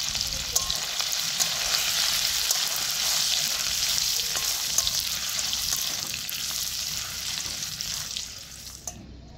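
Grated ginger and cumin seeds fry in hot oil with a steady, dense sizzle that holds loud and even for about eight seconds, then cuts off abruptly near the end; no one speaks.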